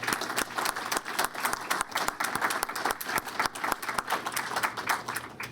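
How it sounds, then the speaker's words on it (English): An audience at a higher-education policy event gives a round of applause, dense overlapping claps sustained evenly and loudly throughout. "join me in giving Mariette, Janan, and Kenny a big round of applause."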